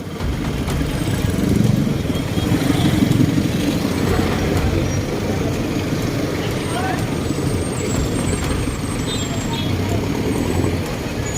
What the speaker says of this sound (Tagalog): Sobrang traffic po, no? Traffic lang.